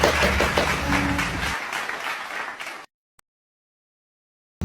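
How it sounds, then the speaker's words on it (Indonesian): A seventh-grade class applauds during a microteaching lesson, with a burst of group clapping that thins out over about three seconds before cutting to silence. "Tepuk tangan dong untuk kita semua."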